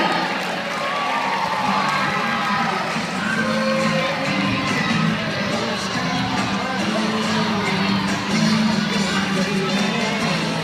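A large crowd of students cheers and shouts loudly and continuously as a group passes by the tables at a school book character event, with children's voices whooping throughout.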